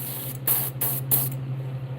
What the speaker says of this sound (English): we're gonna take the dark green and we're gonna spray at a halfway point